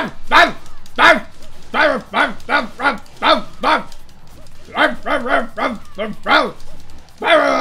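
Barking dog-like enemies in an action video game: a rapid series of loud, harsh barks and yips in uneven bursts, close and dominant, with a short pause midway.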